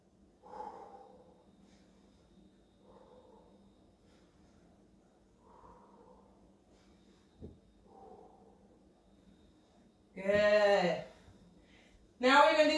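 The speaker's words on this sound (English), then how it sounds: "nicely controlling breathing. Nice inhale, exhales." Controlled inhales and exhales during a seated wide-leg stretch in a glutes and legs workout. Soft, close breaths come roughly every few seconds, and a voice then talks over the end.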